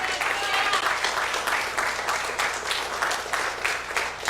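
A church congregation applauds during a sermon, a steady, fairly loud wash of many hands clapping that continues throughout.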